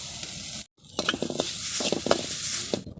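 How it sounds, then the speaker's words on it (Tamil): Grated coconut dry-roasting in a pan for a meal maker curry: a soft, constant sizzle with scraping stirs and light clinks of a utensil against the pan, close by, with no talking. "ஈரப்பதம் போகிற அளவுக்கு தேங்காய் வறுத்து எடுத்துக்கலாங்க"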